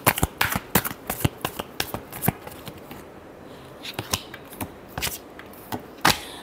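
Tarot cards are shuffled by hand in close, crisp riffling bursts that come in an uneven rhythm, loud and without talk.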